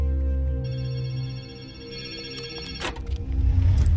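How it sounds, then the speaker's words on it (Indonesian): A public telephone rings with a steady electronic trill, loud and close, cutting off near the end as a low rumble rises. "Dr. Charles menghubungi mereka lewat telepon umum"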